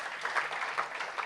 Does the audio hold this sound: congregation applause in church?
yes